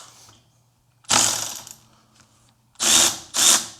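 A Lidl Parkside 12V cordless angle ratchet whirs loudly in three short, close bursts, with a steady low motor hum and quieter clicking between them.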